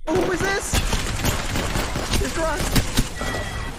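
Rapid bursts of automatic gunfire in Apex Legends, loud and dense with overlapping shots, under excited talk from a player.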